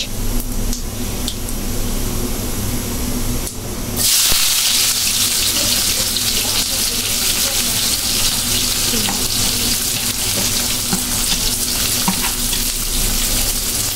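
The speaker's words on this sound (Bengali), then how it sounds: "পেঁয়াজগুলো দিয়ে এখন ফুপু হালকা করে নেড়ে চেড়ে নিবে পেঁয়াজগুলো, তারপর ব্রাউন কালার করে ভেজে নিবে" Onions sizzling in hot oil with whole cumin seeds in a pan, a steady crackling hiss that jumps louder and brighter partway through as the onions go in and keeps frying evenly to the end, with no voices.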